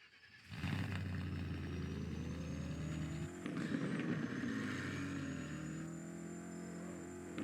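Car engine in a Roblox game, a steady droning hum that rises in pitch as the vehicle accelerates, with a brief shift partway through, continuous and fairly close with no talking.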